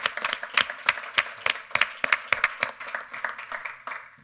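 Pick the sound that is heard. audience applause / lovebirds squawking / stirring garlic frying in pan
audience applause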